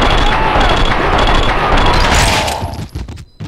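Dual Ingram submachine guns firing in the video game Max Payne 2, a loud continuous rattle of rapid automatic gunfire that holds steady, then thins into a few scattered bursts near the end.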